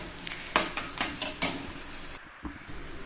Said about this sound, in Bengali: নামিয়ে এখানে ইপির জন্য পেঁয়াজ আর কাঁচা লঙ্কা ভাজতে দিয়ে দিয়েছি